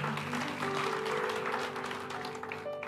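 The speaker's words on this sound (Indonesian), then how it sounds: "Tepuk tangan." A church congregation claps briefly during a sermon. The scattered applause is fairly faint, with an organ or keyboard chord held underneath it.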